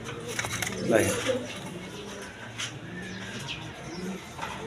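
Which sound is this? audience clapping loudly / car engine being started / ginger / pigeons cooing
pigeons cooing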